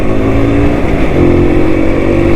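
A vintage Rajdoot Excel T motorcycle engine runs steadily while being ridden, a loud continuous low drone with dense rumbling harmonics and no break in its level.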